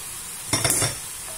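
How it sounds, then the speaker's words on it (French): Vermicelli drops into a pan of sizzling vegetables, a brief burst of crackling and scraping set over a steady hiss of frying, with no voices. "Maintenant, on va venir rajouter notre vermicelle."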